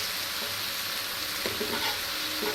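Paneer cubes fry in oil in a pan, giving a steady dense sizzle with occasional stirring scrapes, close and continuous.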